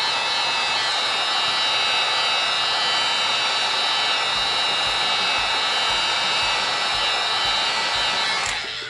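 A craft heat tool blows hot air in a steady, loud, close whooshing roar that runs unbroken for several seconds before cutting off at the end.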